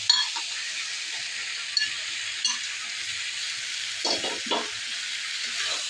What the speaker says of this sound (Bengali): ভালো করে কষিয়ে নেব বন্ধুরা মশলার সাথে মাশরুম, চিংড়ি আর আলু।